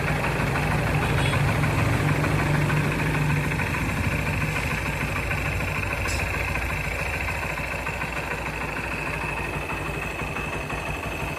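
A motorcycle engine idles close by with a steady, even chugging hum that holds for several seconds without revving, and no one speaks.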